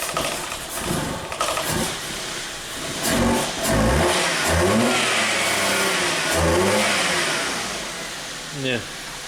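A car engine is revved repeatedly during repair work, rising and falling in strong close surges while someone talks over it.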